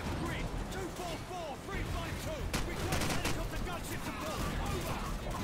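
AK rifle bursts and surrounding battle gunfire in Call of Duty 4: Modern Warfare, dense rapid shots with crashes blending into continuous combat noise, while voices talk over it.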